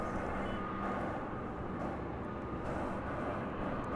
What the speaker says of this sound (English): I think I see the FedEx plane coming in.